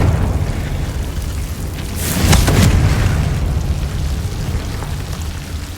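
Confringo blasting spell explosion in Hogwarts Legacy: a dense rumbling roar throughout, swelling into a bright bursting blast about midway before settling back to a steady low boom.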